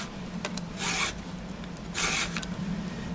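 A chainsaw chain being sharpened with a hand file and filing guide: two distinct rasping strokes, close and clear, with a few lighter scrapes and clicks between them.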